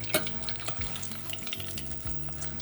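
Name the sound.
battered fish deep frying in oil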